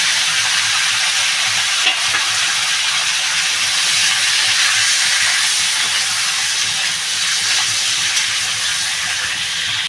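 Pumpkin curry with prawn heads and prawn legs hits a hot pan, giving a loud, steady, close sizzle that holds for the whole stretch with no talking.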